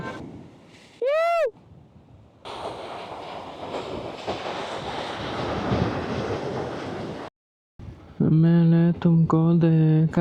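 Sea surf washes and roars at a beach under gusty wind, a broad rush that swells and holds before cutting out. A short whistle-like sweep comes earlier, and voices follow near the end.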